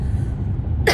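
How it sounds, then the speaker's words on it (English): One sharp, close cough bursts out at the very end after a low, muffled rumble of background noise. "I still have that cough."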